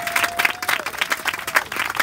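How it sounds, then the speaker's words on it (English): A crowd at a recreation center groundbreaking ceremony applauds with many hands clapping in a lively, uneven patter, close and clear, while a faint tone runs under it. "Let's give him a big round of applause for that."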